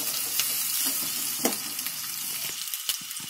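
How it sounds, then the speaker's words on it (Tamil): Chopped onions sautéing in oil in a pan for egg gravy give a steady, close hiss and sizzle, with occasional soft scrapes and clicks as they are stirred, and no talking. "நல்லா வதக்கணும், நல்லா அது கோல்டன் கலர்ல ஆகிற வரைக்கும் வதக்கணும்"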